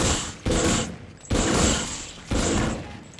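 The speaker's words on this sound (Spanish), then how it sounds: "esta rueda mágica lo que hace es que nos da un arma aleatoriamente" A magic wheel spins out a random weapon in the Call of Duty Infinite Warfare zombies mode, giving loud mechanical whirring and ratcheting bursts in three repeated surges.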